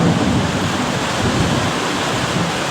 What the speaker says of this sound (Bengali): জানি না কতক্ষণ এই বৃষ্টিপাত চলবে আর প্রচুর পরিমাণে বিদ্যুৎ চমকাচ্ছে